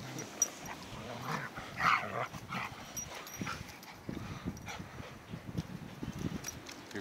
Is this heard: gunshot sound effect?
no